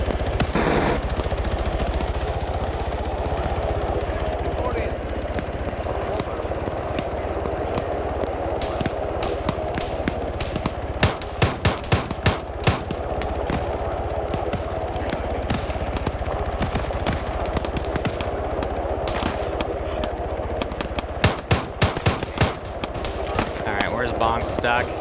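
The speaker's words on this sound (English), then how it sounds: "Falcon's being shot at by riflemen in here. Just taking random ground fire." Repeated gunfire from riflemen in the Arma 3 video game, sharp shots and bursts scattered through the clip and clustering in rapid volleys, over a constant engine-like drone with talk mixed in.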